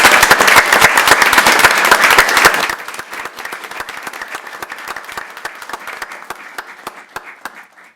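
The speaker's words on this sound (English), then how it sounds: "Please give them a round of applause." A crowd applauds loudly with dense clapping that thins into scattered claps and fades out over several seconds.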